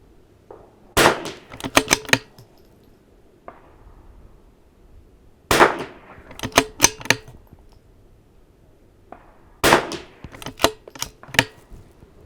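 Rifle shots at an NRL22 rimfire shooting match, three separate bursts of sharp cracks, each a quick string of four or five shots spaced a few seconds apart, loud and close with quiet gaps between.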